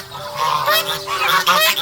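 Loud, close honking from a young Toulouse goose, about a month old, several harsh calls in quick succession, nasal and insistent.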